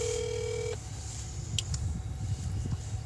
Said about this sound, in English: Can I make a phone call for the car?